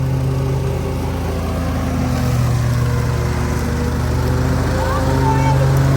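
A tractor engine labors while mowing tall hay, a loud, continuous low rumble with a steady hum, and a voice speaks over it at moments.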